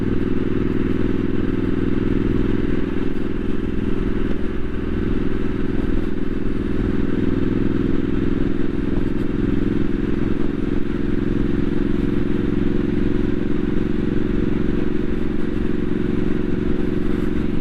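A Triumph Street Scrambler 900 fitted with heated grips, on a short local ride in chilly weather, gives off a steady, loud engine drone mixed with wind and road rumble that holds throughout without letting up.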